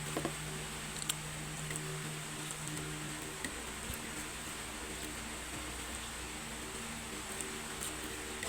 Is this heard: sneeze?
no